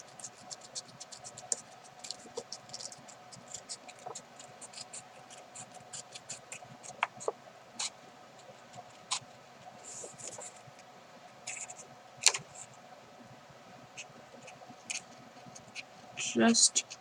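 Scissors snip around a paper image, giving short crisp cuts in an uneven run over a faint background, with a louder rustle and scrape near the end.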